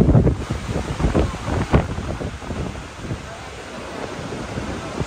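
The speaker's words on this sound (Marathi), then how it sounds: "भयंकर जोरात वारा आणि पाऊस." A strong wind and rain storm during the first rains in Mumbai roars steadily, buffeting the microphone in loud, continuous gusts with no clear pauses.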